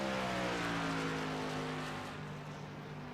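Race truck engine from the iRacing simulation accelerating up to speed on an oval, a loud, steady, high-revving drone that fades slightly toward the end.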